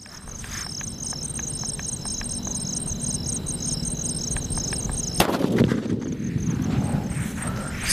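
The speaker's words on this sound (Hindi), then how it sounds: "अब टेस्ट करते हमारे मुन्ना वीआईपी सूतली का और देखते हैं ये कैसा चलता है" Steady chirping crickets fill the air until a Munna VIP sutli firecracker goes off in one sharp, loud bang, followed by a brief rumbling tail before the crickets carry on.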